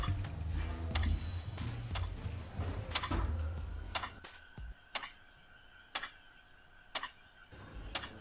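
A clock ticks in a short film, its steady beats about one per second. They are partly buried under a busy mix at first, then stand out clearly against near silence.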